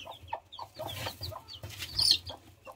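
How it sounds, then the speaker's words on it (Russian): A hen clucks in short, repeated bursts, soft and close, with other bird chatter and faint rustling around it. "Курочка."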